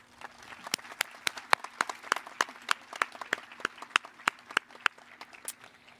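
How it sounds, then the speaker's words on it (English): Scattered applause from a modest crowd at a high school graduation: individual claps patter irregularly and steadily for several seconds, heard from some distance. "would you please thank your teachers, parents, and family members with a big round of applause?"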